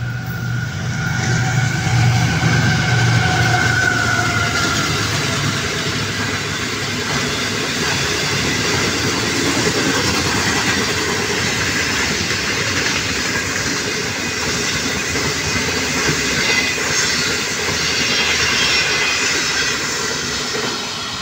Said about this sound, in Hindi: 105 किलोमीटर फी घंटा की रफ्तार से पास हुई है, 105 kilometre, 5 up green line express